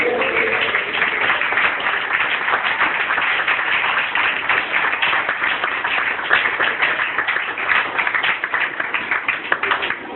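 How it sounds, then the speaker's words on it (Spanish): A church congregation applauding during a Spanish-language evening sermon, dense sustained clapping that runs steadily and loud throughout, with a voice faintly present beneath. "¿Cuántos pueden aplaudir a la palabra de Dios?"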